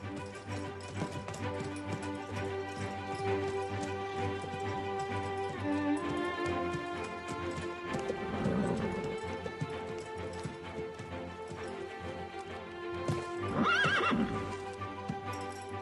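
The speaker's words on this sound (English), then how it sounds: "Allure is the way a horse moves. Gallop, trot, step, see." Horse moving through gallop and trot with rhythmic hoofbeats, punctuated by loud whinnies midway and near the end, fairly quiet overall against a steady background tone.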